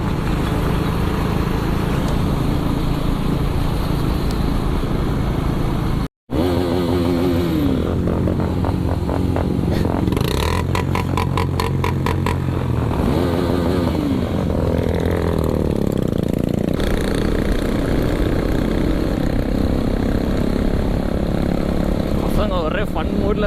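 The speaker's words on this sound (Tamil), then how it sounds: "புல்லட்டில் வேறு வந்துட்டுருக்கானுங்களா, எல்லாம் போட்டு திராட்டில் அடிச்சுக்கிட்டே வரானுங்க." Bullet motorcycles ride along with their engines running, throttles revved up and down in rising bursts, loud and close, under a constant drone of wind and road noise.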